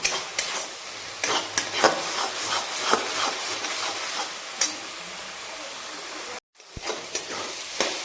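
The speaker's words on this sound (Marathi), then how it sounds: "आपण अजून थोडी परतून घेऊ" Tomato puree being sautéed in a pan for street-style pav bhaji, a soft sizzle broken by regular stirring scrapes and taps, with a brief gap near the end.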